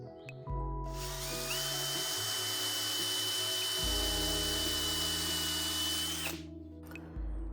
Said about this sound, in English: I'm just going to drill a hole, a pilot hole right down the middle.